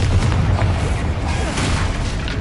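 A Confringo blasting spell explodes in Hogwarts Legacy, giving a loud, dense boom with a rumbling burst that stays sustained over a couple of seconds and has no clear pauses.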